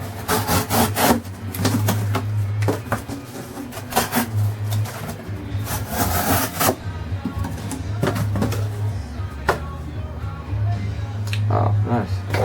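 A thick, full-flat-grind knife blade slices through cardboard in repeated rasping, tearing strokes, each a short scratchy burst close to the mic, with a low hum under them.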